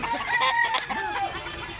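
A big eleven-month-old Talisayon rooster at a South Cebu chicken market gives a few close, sharp clucks and short crowing calls in quick succession.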